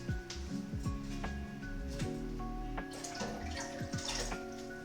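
Tap water pours steadily into a cooking pot while eight cups are measured for shrimp scampi with orzo, a continuous close splashing stream with faint gurgles and clinks.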